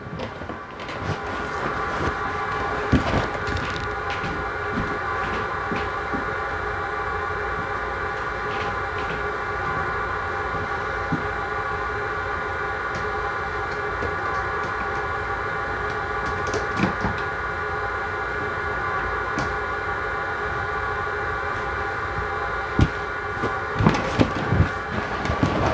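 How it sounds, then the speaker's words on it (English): Model train sound decoder playing a long high brake squeal, sustained and loud with a steady metallic whine and a few clicks and clunks toward the end. "really cool brake squealing noise"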